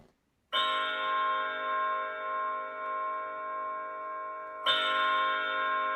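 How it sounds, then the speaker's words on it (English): Nearby church bell in a village tolling a funeral knell: two slow, loud strikes several seconds apart, each leaving a long ringing hum, with no other sounds. "a nearby church bell was tolling a funeral knell"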